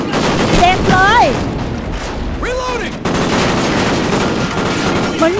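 Dense, loud gunfire in Call of Duty: Ghosts rattles almost continuously in rapid bursts, mixed with whistling and swooping effects and occasional voices.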